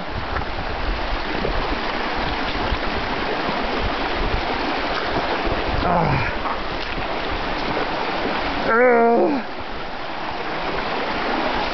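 Feet wade and splash through a shallow stream bed, with constant rushing water filling the scene, brief louder sloshes, and a voice calling out near the end.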